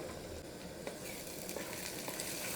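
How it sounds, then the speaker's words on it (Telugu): Masala of spices frying lightly in a pan for a village-style mango fish curry, a steady close sizzle with soft stirring scrapes throughout, no voices. "మసాలా లైట్గా వేగిందండి"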